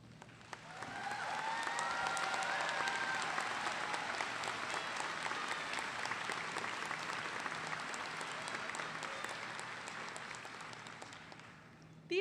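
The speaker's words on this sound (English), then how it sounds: "please give them another round of applause" A large audience at a high school graduation ceremony claps for teachers and staff, a dense, sustained applause that swells quickly, holds steady for about ten seconds, then gradually thins out.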